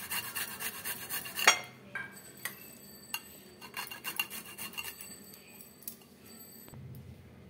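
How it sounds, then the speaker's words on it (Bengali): Ginger and garlic grated by hand for restaurant-style arhar dal, giving faint, close scraping and rasping strokes in a quiet kitchen, with a few light metallic clinks between them. "আদা রসুনটা আমি গ্রেট করে নেব।"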